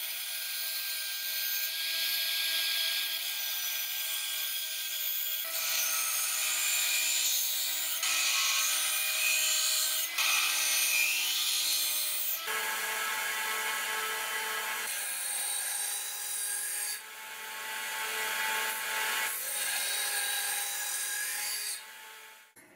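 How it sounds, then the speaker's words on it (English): Steel file rasping along the bevel of a handmade knife blade, a close, steady scraping in long repeated strokes that shift in pitch, continuous with no talk. "So I'm gonna finish this bevel with a file."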